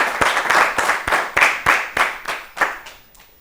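An audience claps for a contestant on a children's quiz show, with about a dozen sharp, distinct claps in a loose rhythm. The claps start loud and close, then thin out and fade toward the end.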